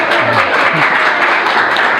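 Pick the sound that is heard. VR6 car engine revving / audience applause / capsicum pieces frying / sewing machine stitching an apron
audience applause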